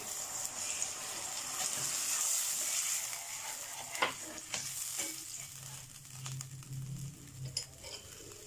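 Chicken jalfrezi in a pan after water is added, heard up close as a soft sizzle with stirring, scraping and light liquid patter, quiet and unsteady, with no talking.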